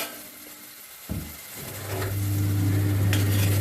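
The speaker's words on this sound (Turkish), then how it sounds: "Salçasını kavuracağız." Tomato paste hits a hot pan and starts sautéing, a sudden sizzle after a quiet moment that swells into a steady frying hiss with a low hum beneath.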